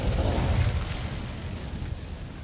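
An Incendio fire spell bursts in Hogwarts Legacy, a loud whooshing, rumbling blast that starts strong and slowly tails off over a couple of seconds.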